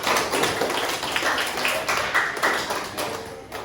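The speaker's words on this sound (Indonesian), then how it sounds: "Beri tepuk tangan dulu untuk teman-teman yang sudah bermain" Children in a classroom clap together after classmates finish a game, giving a dense, steady patter of many small hands that holds evenly throughout, with no talk over it.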